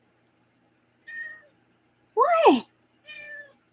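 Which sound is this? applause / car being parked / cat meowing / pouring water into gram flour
cat meowing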